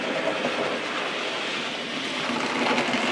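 A model train runs around a layout at full speed, giving a continuous, even rumbling clatter of wheels on track that stays close and steady throughout with no pauses.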